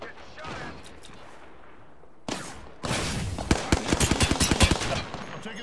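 Rapid gunfire bursts in the battle royale game Apex Legends, sparse shots first, then a dense run of loud, close, crackling automatic fire toward the end.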